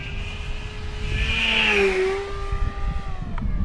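An E-flite V1200 RC jet whines overhead in a vertical climb on a paved-runway flying day, its tonal whir sweeping up in pitch and swelling louder mid-clip before easing off.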